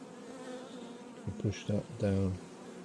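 A low, steady buzz of many honey bees in a hive fills the background, with a voice briefly speaking over it near the end.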